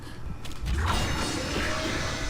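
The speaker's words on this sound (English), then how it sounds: "Wait, open the door again." A heavy mechanical door in the horror game Dead Space grinds open with a deep clunk and a creaking, hissing slide that sustains to the end, close and fairly loud.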